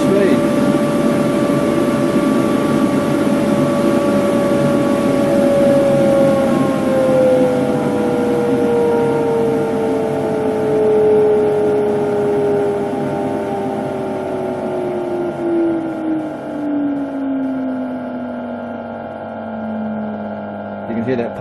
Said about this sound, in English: So we'll turn it on, turn on the blower. Turn back the speed.